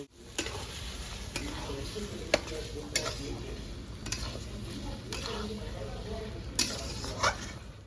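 Pepper chicken gravy with coriander powder sizzles in a pan while it is stirred, with a spoon scraping and tapping the pan every second or so against a steady frying hiss.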